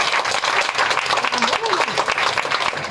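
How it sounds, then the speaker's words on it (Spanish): A church congregation claps and applauds loudly in a dense, continuous wash of hand claps while a voice speaks over it. "¿Cuántos pueden dar un aplauso fuerte al Señor?"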